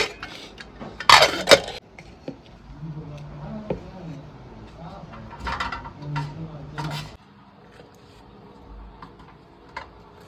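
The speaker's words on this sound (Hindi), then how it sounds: "हमने कहा तब तक बर्तन धुल के रख देते हैं।" Pots, pans and dishes being washed in a village kitchen in the morning, with metallic clinks and clatters, a loud burst of clanging early on, then scattered knocks under background chatter and faint voices.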